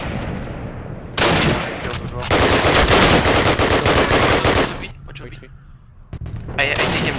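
Dense, loud bursts of automatic machine-gun fire in a Call of Duty 1 search-and-destroy match, with rapid rattling volleys that stop and start and a short quieter gap before the firing resumes.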